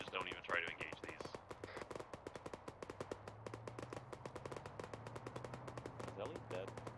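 Rapid bursts of automatic machine-gun fire in the military shooter game Arma, the rhythmic crackle running steadily throughout under a low hum and occasional talk from players.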